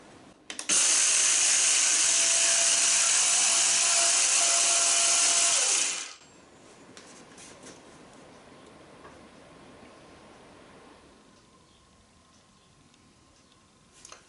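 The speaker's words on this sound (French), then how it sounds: "c'était une scie circulaire à main plongeante" A Teccpo TDMS22P mini plunge circular saw runs with a loud, steady whine for about five seconds, then cuts off abruptly, leaving quiet room noise with faint clicks.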